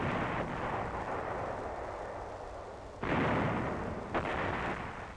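Tank cannon firing armor-piercing rounds in an animated battle: a sustained heavy rumbling roar, then a sharp loud blast near the three-second mark and another deep report shortly after, with no voices.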